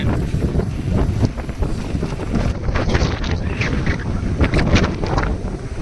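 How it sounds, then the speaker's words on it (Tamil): Strong wind roaring and buffeting continuously, loud and close, with rumbling gusts throughout and no voices. "காற்றும் பாருங்க"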